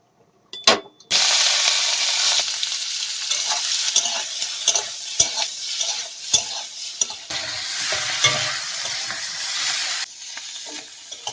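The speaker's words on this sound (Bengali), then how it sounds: "চিংড়ি মাছটা ভেজে নেব।" Prawns fry in hot oil in a wok: a loud, steady sizzle breaks out after a short sharp clatter and continues with scattered stirring scrapes and pops. No one speaks.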